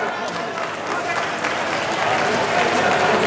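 Audience applause at a student merit award ceremony in Nawadih, where a medal and certificate are being presented by the Governor; steady, dense clapping from a large crowd fills the whole stretch, swelling slightly toward the end.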